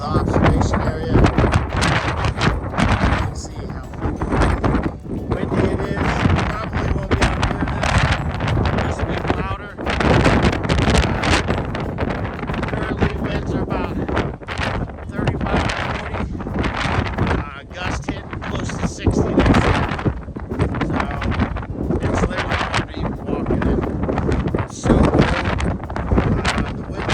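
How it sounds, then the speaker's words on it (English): Strong wind buffets the microphone at a mountain observation area along the Appalachian Trail, a loud continuous roar and rumble with gusty surges throughout, with people talking over it. "You can see how windy it is."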